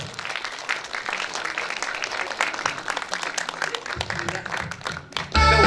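Concert audience at a Korean-Japanese joint music concert claps to welcome a singer's entrance, a lively, fairly close applause lasting several seconds with crowd noise, ending as music begins.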